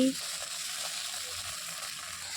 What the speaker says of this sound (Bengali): পাতুরিটা এপিট ওপিট ভালো করে ভেজে নেব, যাতে ভিতরে কাঁচা না থেকে যায়।